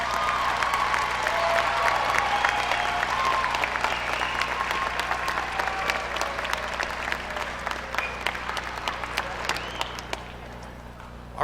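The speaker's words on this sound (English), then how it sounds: "give your families a round of applause" Sustained audience applause fills a high school commencement ceremony as graduates clap for their families, a dense wash of many hands with scattered louder claps, tapering off toward the end.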